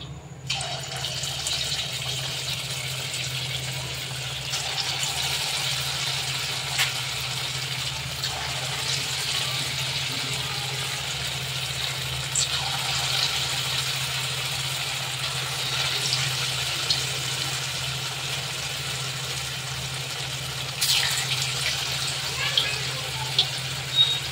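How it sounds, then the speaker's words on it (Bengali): Potato pakoras deep frying in a generous amount of hot oil, a steady broadband hiss and crackle that runs continuously and fairly evenly throughout, close up, with no talk over it. "পকোড়াগুলো একটু ডিপ ফ্রাই করবো, তার জন্য তেলটা একটু বেশি লাগবে।"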